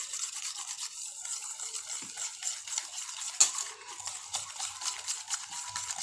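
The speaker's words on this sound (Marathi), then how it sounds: "याचा कलर चेंज होईपर्यंत आपल्याला छान फेटून घ्यायचं." Ghee whisked in a bowl until it turns pale and white, a faint, steady, fine scraping and swishing that runs continuously, with no voices.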